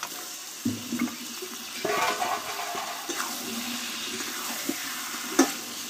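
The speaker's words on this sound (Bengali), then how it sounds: "এইবার ম্যারিনেট করা চিকেনটা আমি এতে ঢেলে দেবো।" Marinated chicken tipped into a pan of frying masala for a Bengali-style chicken curry, giving a wet splash and sizzle that rises and settles, with stirring clatter and a sharp knock near the end, no voices.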